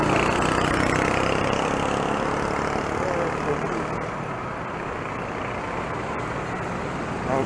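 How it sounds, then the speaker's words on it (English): Steady early-morning road traffic with idling and passing engines, trucks and buses among them, a dense continuous rumble heard from a bicycle on a hill, gradually easing slightly. "early morning traffic"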